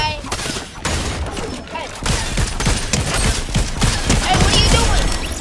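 Rapid gunfire from a Red Eye gun in Fortnite, a loud run of repeated shots in quick succession, mixed with in-game sounds.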